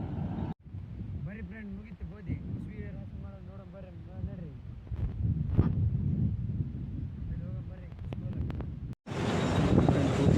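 Wind gusts buffet the microphone in a steady low rumble as wind blows through a wheat field, with a person talking over it throughout.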